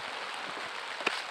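Steady rain pours down in an outdoor setting as a dense continuous hiss with faint patters on surfaces, moderately loud and with no talk.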